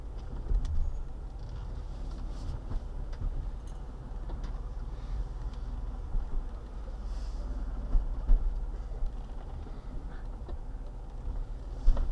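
A Ford Bronco crawling off-road on the trails of Moab, a continuous low engine rumble with scattered knocks and rattles from the rough terrain, steady and fairly close.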